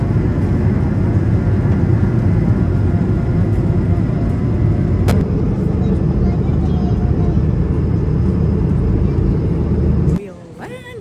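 Inside an airliner landing at night, a loud, steady roar of engines and rumble fills the cabin and then drops away abruptly near the end.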